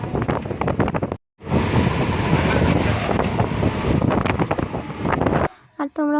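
A passenger train rolls through heavy rain, a steady broad roar of wheels, wind and rain dominating close by, broken by a brief drop-out, then fading at the end as a voice speaks.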